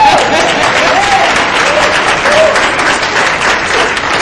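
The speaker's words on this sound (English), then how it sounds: "Let's clap it up for Barbara." An audience gives a continuous, loud burst of applause for a woman after her real-estate success testimonial, with dense clapping filling the room and a few faint voices beneath it.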